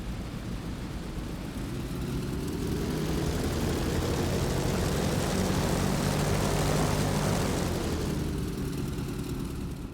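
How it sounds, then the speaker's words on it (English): A P-47 Thunderbolt's radial propeller engine drones continuously while the fighter taxis, a heavy, close, steady roar that swells slightly mid-way and holds without pause. "Always exciting taxiing the P-47 if you haven't done it in a little while."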